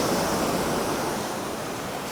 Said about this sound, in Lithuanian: labai didelis garsas nuo bangų